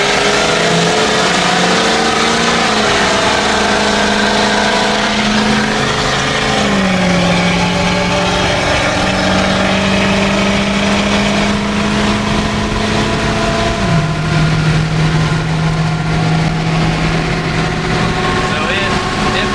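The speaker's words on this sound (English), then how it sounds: "I'm gonna push it all the way to about half throttle" A Ford 6.0 Powerstroke diesel pickup pulls away at about half throttle from around 20 mph, its loud engine drone rising steadily in pitch with gear shifts, heard from inside the cab with someone talking over it.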